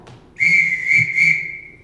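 A shrill whistle signal summons a group of children with three sustained high blasts that run almost together. It is loud and close, with no speech.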